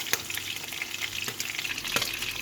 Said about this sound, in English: I'm going to be frying my plantains